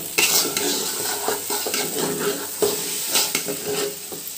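Rice fries in about 150 grams of refined oil in a pot for chicken biryani, with a loud sizzle and repeated scraping and clinking of a spoon against the metal pot, no talking.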